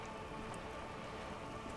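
Steady rain falls in Disco Elysium, a dense, even wash of drops with no talk over it.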